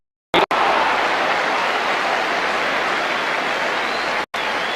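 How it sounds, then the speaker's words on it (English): A football crowd at a 1983 Division 2 match between Grimsby Town and Wolves applauds a run: a broad, steady wash of clapping and crowd noise that keeps going after a sudden start, with one brief cut near the end. "Cumming gets applause for his run"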